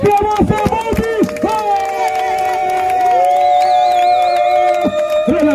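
A crowd of guests at a wedding celebration after a civil ceremony cheers loudly and continuously, with high trilling voices and shouts over one another throughout.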